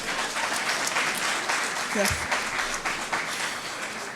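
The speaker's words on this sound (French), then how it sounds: "Juste pour ça, applaudissez parce que c'est incroyable quand même." An audience at a live Haiti quiz show breaks into steady, fairly loud applause, with a brief spoken word from a voice partway through.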